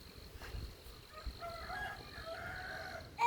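A rooster crows faintly in the distance, a drawn-out wavering call rising over quiet outdoor background noise, with a soft thump just before the crow.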